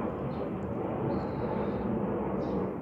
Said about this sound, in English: You can hear the planes up ahead.